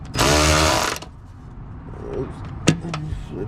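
A power tool drives a 12 mm socket onto the exhaust hanger bolts at the tailpipe end of an MBRP exhaust system install: one close, loud burst of whirring and rattling impacts lasting under a second, then quieter clanks of metal.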